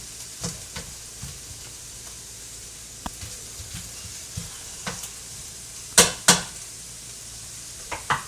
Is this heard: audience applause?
no